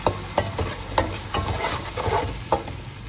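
Ginger garlic paste and green chili paste sizzle in hot oil while a spoon stirs with a few scraping strokes, close and steady.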